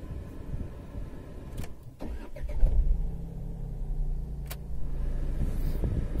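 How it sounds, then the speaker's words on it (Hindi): A Tata Altroz XE car engine cranks over and catches, then settles into a steady low idle hum that carries on to the end, heard close up with no talking. "मैं आपको गाड़ी स्टार्ट करके दिखाता हूं कि किस लेवल का"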